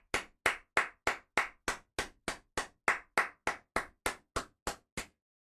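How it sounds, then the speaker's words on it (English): About sixteen sharp, evenly spaced hand claps ring out one after another, close and loud with no talking, cheering on a Brooklyn Nets player's scoring run. "I have to give this guy a round of applause."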